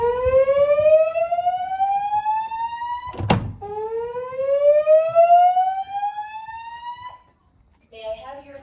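A dorm fire alarm siren sounds loud and close in two long rising sweeps with strong harmonics, cut by a brief sharp bang between them, then falls away to a short faint tone at the end.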